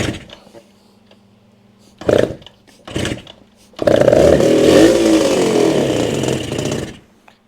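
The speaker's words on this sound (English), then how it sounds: "our RD350. It sputtered, kind of wants to run." A 1973 RD350 two-stroke motorcycle engine cranks with two brief coughs, then catches and sputters loudly and raggedly for about three seconds before cutting out.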